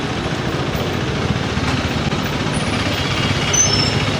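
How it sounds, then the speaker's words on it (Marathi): Busy road traffic at the Dadar TT circle in Mumbai, a loud, continuous rumble of idling and passing trucks, buses and cars, heard up close with no talking. "दादर TTचं सर्कल आणि ही गर्दी नेहमीची."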